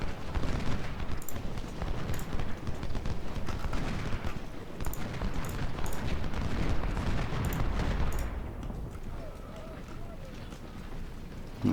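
Cannon artillery fire in the Civil War strategy game Ultimate General: Civil War, a dense continuous rumble of booming shots and battle noise for about eight seconds before easing off, loud and sustained with no one talking.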